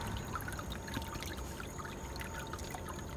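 Water poured out of a gold prospecting water table, a steady broadband wash of trickling and splashing flow that stays even and fairly quiet outdoors throughout.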